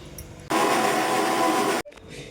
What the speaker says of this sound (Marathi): आता आपण हे सर्व एकत्रच बारीक करून घेणार आहोत